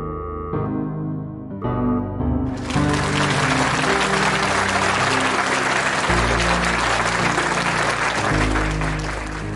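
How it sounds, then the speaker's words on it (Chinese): An audience at a school ceremony applauds to welcome a student speaker, with dense, loud clapping that swells in after a few seconds of music and continues over the music. "大家掌声欢迎"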